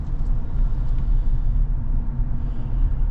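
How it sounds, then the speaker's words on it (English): Chevrolet Silverado truck engine with its stock intake, a steady low rumbling idle that stays even and close throughout, with no talking over it. "give you some little bit of sounds of the truck with the stock intake on"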